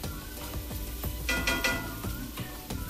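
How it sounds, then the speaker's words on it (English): Chopped ingredients for a quinoa paella stirred around a sizzling pan, with repeated scraping strokes of a utensil against the metal over a steady fry, close up. "So I'll just chuck that in there and give that a little bit of a stir around"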